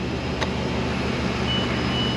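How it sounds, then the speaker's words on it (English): A CAT 289D3 skid steer gives a brief electronic beep as its key is switched on, a single short chirp over a steady background hum. "Okay, it beeped."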